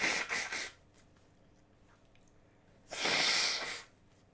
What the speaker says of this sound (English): I gotta blow my nose, hang on.